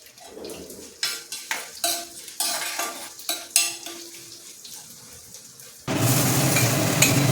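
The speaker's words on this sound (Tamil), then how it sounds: "மல்லி ஒன்று வறுத்துட்டு தேங்காயும் போட்டு வறுக்கணும்." Coriander seeds roasting in coconut oil, stirred in a pan with a series of close scraping strokes and clinks over a low sizzle, then a sudden louder burst of frying hiss.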